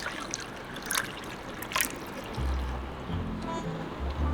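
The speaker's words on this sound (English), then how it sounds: "Add 200 milliliters of water." Water is poured into a pot as 200 ml is added for a turmeric home remedy, giving a faint, steady trickling splash that keeps going for several seconds.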